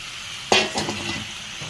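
Papaya and potatoes drop into a hot pan, setting off a sudden burst of sizzling that eases into a softer, steady frying hiss, close and brief.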